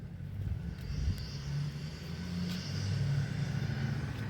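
A truck turns around nearby, a low engine rumble that idles and swells gradually, with faint wind noise and no voices.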